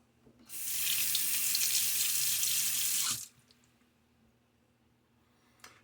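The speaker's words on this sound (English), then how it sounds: "Let's get a good rinse, and also I'll clean my gear." Tap water runs steadily into a sink for about three seconds while shaving gear is rinsed, a loud even rush that stops abruptly, followed by quiet with a small knock near the end.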